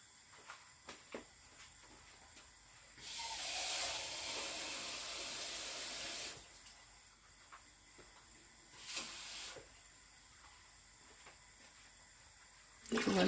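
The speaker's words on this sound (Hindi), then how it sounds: "तो 1 कप पानी और मैंने ऐड कर दिया।" A cup of water poured into hot sugar syrup for rasmalai gives a loud steady hiss lasting about three seconds, then a shorter second burst of sizzling, with quiet kitchen clatter between.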